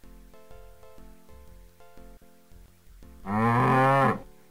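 A single loud, drawn-out cow moo from the video game Archibald Applebrook's Abenteuer rings out near the end, following a stretch of plinking game music.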